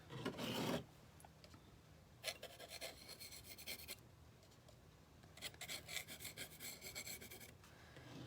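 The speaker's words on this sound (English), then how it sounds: "I'm going to rub in some black around the edges" Black paint is rubbed around the edges of a canvas, giving soft, scratchy rasping strokes in intermittent bursts, close and fairly quiet.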